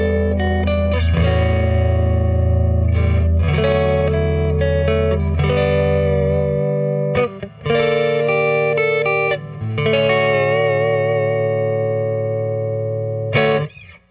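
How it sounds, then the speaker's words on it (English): A Fender Jazzmaster electric guitar on its neck pickup plays a warm, overdriven mix of low sustained chords and picked melodic lines, loud and up close, with short gaps between phrases and no talking. "Now our neck pickup tone."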